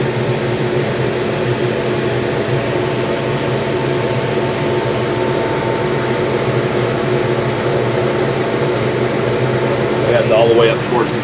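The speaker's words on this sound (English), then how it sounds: "That's the laser it's engraving." A laser engraving machine marking a safety padlock produces a steady mechanical hum with fan-like whir and faint tonal lines, continuous and fairly loud throughout.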